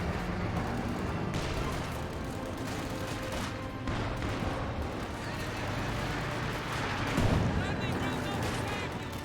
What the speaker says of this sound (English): 120mm mortars from the VT crew.